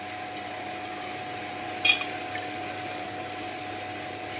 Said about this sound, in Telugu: అయితే గ్రైండర్లో వేసి రుబ్బుకుంటున్నాను